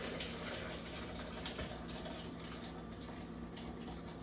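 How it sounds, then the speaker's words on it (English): Liquid pours from a spout into a blender during a cooking demonstration, a steady close rush of flowing liquid with a faint hum beneath, no talking. "Take some of this and pour it in."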